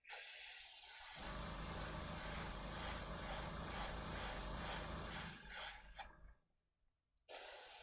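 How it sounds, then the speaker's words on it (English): A hobby airbrush hisses steadily as it sprays paint onto a miniature for a Stompa charity build, a loud continuous spray that wavers, drops out briefly near the end, then resumes. "Oh, I love this airbrush."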